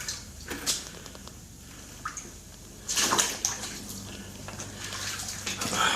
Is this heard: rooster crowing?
no